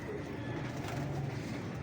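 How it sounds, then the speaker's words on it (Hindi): A pigeon coos at a bird zone in Lahore, giving a few soft, low, rolling calls close by over a light background hum, with no voices. "ऐसे देखो फरहान, तुम भी ये देखें कबूतर कैसा है"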